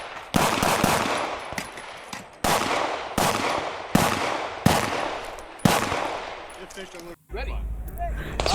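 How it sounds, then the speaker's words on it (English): Loud, close gunshots ring out at a practical shooting competition stage, a string of single sharp cracks spaced roughly a second apart with echoing tails, then a brief quieter stretch with clatter at the end. "I had shots on all the targets"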